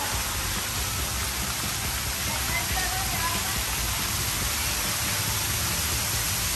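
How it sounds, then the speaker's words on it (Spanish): Water rushes and splashes heavily and without a break at a water park, a dense, loud, continuous wash of falling water close by. "¡Oh, no! ¡Aquí hay mucha agua!"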